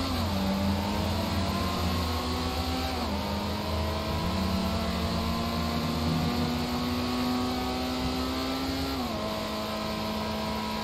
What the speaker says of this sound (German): Ja, das ist wenigstens noch ein Auto, was Motorgeräusche hat